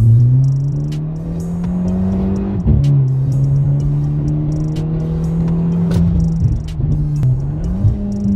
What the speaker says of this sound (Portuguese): Vamos dar umas aceleradas quando der,